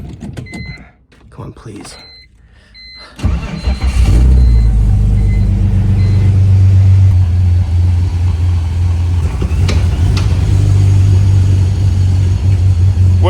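A BMW wagon engine cranks and catches after a brief whirr, then settles into a loud, steady, deep running drone that fills the rest of the clip, with a person speaking briefly just before it starts.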